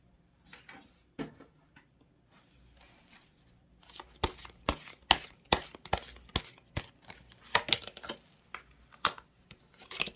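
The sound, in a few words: tarot cards being drawn and shuffled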